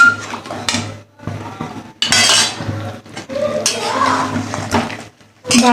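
A spoon scrapes and clinks against a pot while chicken biryani with onion and turmeric is stirred, giving close, irregular metallic knocks and rattles with short pauses.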